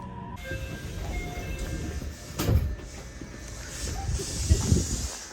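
Trains at a station in Japan produce a continuous rumbling rail hiss with occasional clunks and a rising swell of movement, heard without talk.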